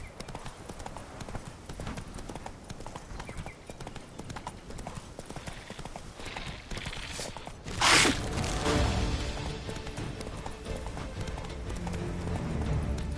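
Roach the horse trots in a video game, hooves clip-clopping in a steady close rhythm over a dull background, with one sharp louder burst partway through and the trotting carrying on after.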